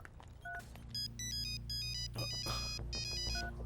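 A phone rings with short bursts of electronic tones in a steady repeating pattern, fairly quiet, over a low background hum.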